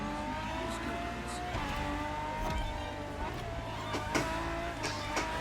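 A Ferrari FXX K engine in the racing game The Crew Motorfest hums steadily at a sustained pitch with slight shifts, moderately loud and continuous, with a few brief sharp transients.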